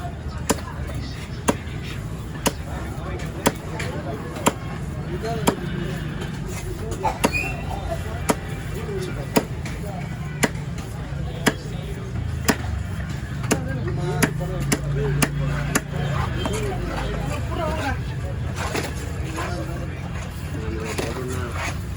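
Repeated sharp knife chops on a naakku fish at a busy fish-cutting stall, with regular thwacks over steady crowd chatter and background noise.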